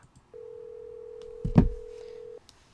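Phone dialing in a Nancy Drew mystery game: a single steady synthetic tone holds for about two seconds, with a brief clicky burst in the middle, then stops cleanly. No one speaks.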